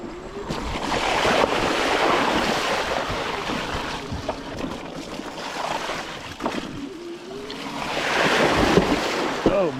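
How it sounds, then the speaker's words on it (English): An e-bike rides through large puddles, throwing up a steady wash of splashing water with heavy wind noise across the microphone. Surges of spray swell near the start and again toward the end, with no talk. "Getting into some larger puddles, so I'm going to gear it up a little bit, I think."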